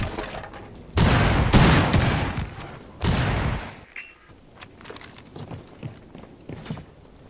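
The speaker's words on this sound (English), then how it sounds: "Detonating cluster charge." A cluster charge detonates in the Rainbow Six Siege beta on the House map: two loud, close bursts of rapid blasts, followed by quieter scattered clicks and thuds.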